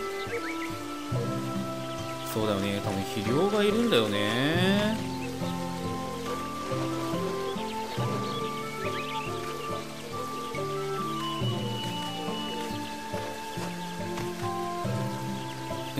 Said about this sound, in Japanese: 雨だ。